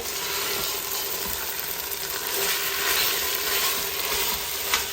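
Ginger garlic paste sizzles with vegetable pieces in a pan, a steady, close, continuous frying hiss with faint stirring scrapes and no talking.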